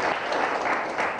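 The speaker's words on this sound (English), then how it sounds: "Let's clap for him." A forum audience at a sports fund consultative meeting applauds the deputy minister: dense, steady clapping that fills the whole short stretch at an even, close level.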